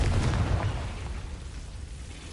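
A Confringo fire spell blast in the Hogwarts Legacy video game, heard as a single loud explosive boom that fades into a rumbling decay.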